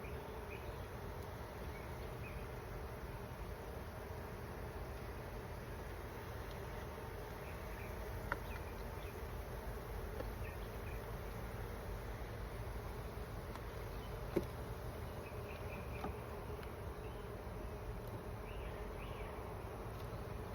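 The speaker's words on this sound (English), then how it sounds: "This frame is covered in bees." A steady, dense buzzing of many honeybees crowding a hive frame close by, continuous throughout with a low droning hum and no voices.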